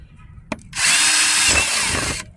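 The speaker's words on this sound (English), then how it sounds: "Let's drill through." Power drill bores through a thin roof storage case, starting after a sharp click with a loud, steady whir that runs continuously and then stops abruptly.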